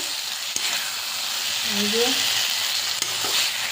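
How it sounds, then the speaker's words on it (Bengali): Spice paste for chicken curry fries and sizzles in a pan, a steady close hiss with occasional stirring scrapes and a brief voice in the middle. "ভালোভাবে মশলাগুলো কষানো হয়ে গেছে"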